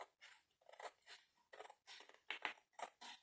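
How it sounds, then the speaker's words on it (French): Scissors snipping small paper tags close to a green printed border, a quick series of soft crisp cuts in irregular bursts, close and quiet with no talking. "je vais découper à ras du vert"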